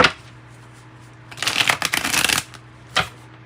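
Tarot cards being shuffled by hand, a burst of rapid papery riffling and flicking lasting about a second, followed by a single short card snap, close and fairly loud against a quiet room.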